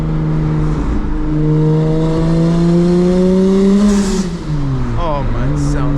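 Single-turbo BMW 335i accelerating hard through a tunnel: a loud, close engine note climbs steadily, dips briefly at a shift, then climbs again with rich, echoing harmonics.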